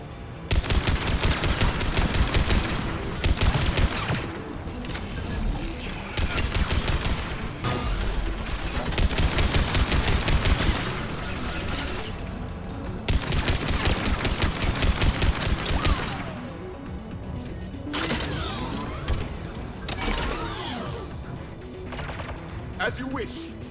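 Turret gunfire in Mass Effect Legendary Edition rattles in loud sustained automatic bursts with short gaps between them. Mechanical whirs and clanks sit under the shooting, and game voices are heard in the quieter stretches.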